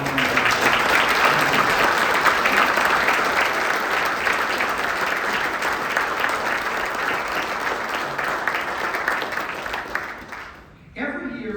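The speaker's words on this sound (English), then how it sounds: "So please join me in giving a round of applause for our" Sustained applause from an audience at a community foundation giving celebration, a thick steady roar of clapping for about ten seconds that then cuts off into near quiet.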